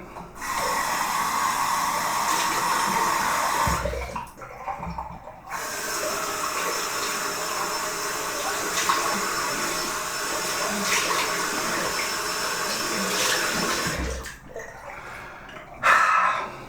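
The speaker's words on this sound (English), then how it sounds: "I'll just rinse off with some marginally warm and then some cold water" Water from a shower runs steadily for a rinse, a broad hissing spray that briefly stops twice, then resumes with a short knock near the end.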